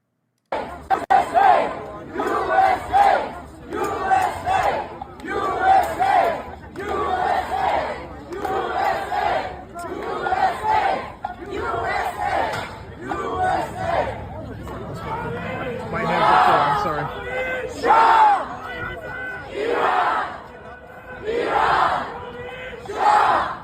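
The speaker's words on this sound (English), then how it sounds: "Crowds are gathering in Boston in support of President Trump and Israel decimating the Iranian regime." Rally crowd in Boston chants in loud, rhythmic unison, with about a dozen evenly spaced shouted bursts separated by short gaps, followed by more ragged cheering and crowd noise.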